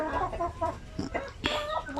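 Native chickens cluck in short, repeated bursts close by, a busy irregular stream of calls with no talking.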